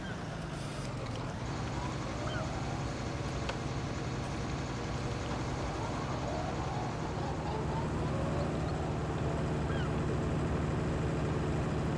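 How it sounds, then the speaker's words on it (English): A Claas tractor engine in Farming Simulator 19 drones steadily and loudly throughout, a constant rumbling hum with faint higher squeaks and mechanical whines scattered over it. "Tractors do sound pretty nice though."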